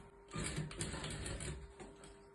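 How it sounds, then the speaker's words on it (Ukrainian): A sewing machine stitching along a marked line to mend torn tulle: a faint, steady mechanical whirr with a quick repeating needle rhythm, alone and quiet. "Ось по цій розмітці я шию"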